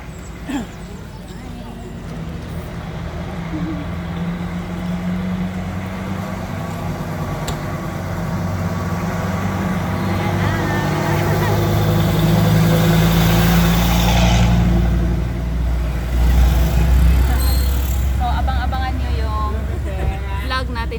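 A vehicle engine hums and rumbles while riding toward Tinuy-an Falls, steady at first and then swelling louder as it speeds up, with people talking over it.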